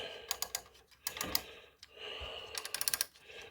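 An Odyssey-010 turntable mechanism is turned by hand, giving close, quiet bursts of fast mechanical clicking and ticking separated by soft whirring and brief pauses, with no talking.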